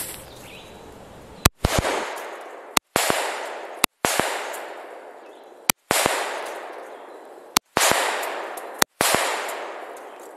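A firearm emptying a whole magazine with about eight loud, sharp shots at uneven intervals a second or so apart, each followed by a decaying echo tail, with no talk.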